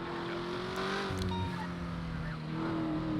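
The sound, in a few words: Acura NSX car driving in the video game GTA V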